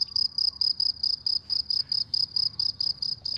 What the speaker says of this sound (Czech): Kto tam má cvrčky?